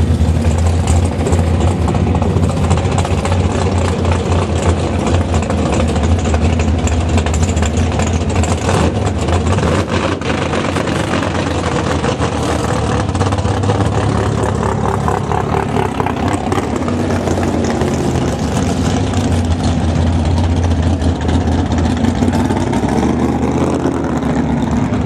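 Drag racing cars at Greenfield Dragway rolling up to the lanes, a dense continuous engine roar and rumble with rising revs, loud and steady throughout with no clear voices.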